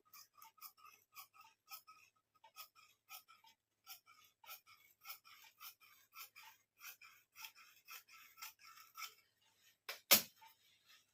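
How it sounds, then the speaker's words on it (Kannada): Scissors snip steadily through blouse fabric in a quiet room, a long run of close, evenly spaced crisp cuts followed by a single louder thump near the end. "ಫಸ್ಟ್ ಒಂದೇ ಸಮನ ಕಟ್ ಮಾಡಿಬಿಡ್ತೀನಿ"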